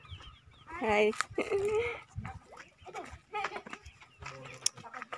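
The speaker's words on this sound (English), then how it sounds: "And there is chicken." Chickens cluck on a farm in the Strawberry Hills, short bursts of clucking and squawks rising and falling while people talk nearby and a voice says a brief greeting.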